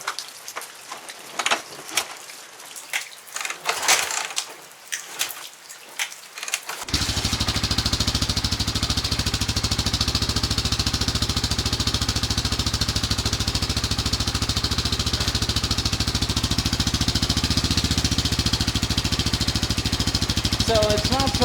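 A Honda XR600R motorcycle fitted with an FMF MegaMax 2 muffler idling close by, a loud steady rumbling drone after several seconds of quieter rustling and tapping.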